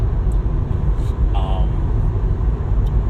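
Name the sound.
car engine and road noise while driving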